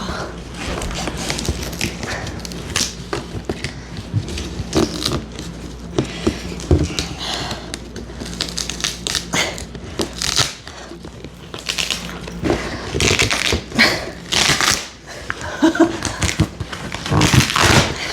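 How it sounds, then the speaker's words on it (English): Packaging around a Joovy boot being ripped open up close, with dense crinkling and tearing bursts that continue irregularly for about eighteen seconds, with some talk mixed in. "I think I just have to rip it open."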